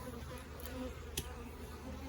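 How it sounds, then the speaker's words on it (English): Honey bees buzz around a hive, a faint, steady insect hum with one bee passing closer, while damp leaves are burned nearby; no voices. "I hate doing this around bees because some of them do fly by"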